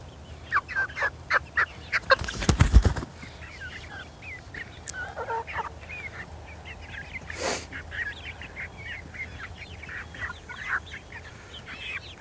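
Farm fowl on a morning farm, with a burst of loud gobbling at the start followed by scattered clucks and calls at middle distance, and no talking.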